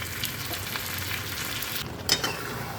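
Mutton with turmeric sizzles and fries loudly in a pan for a methi mutton curry, a dense, steady crackle with a brief stir near the end, close and with no voices.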